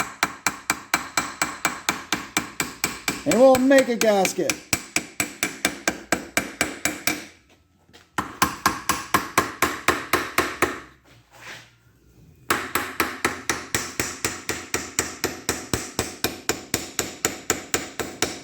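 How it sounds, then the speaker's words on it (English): A small hammer taps cereal-box cardboard laid over a metal engine part to cut a gasket for a 1949 Ferguson TE20 tractor: close, rapid, steady strikes that pause twice, with a brief spoken line. "old mechanic trick, a hunk of cereal box and a little hammer"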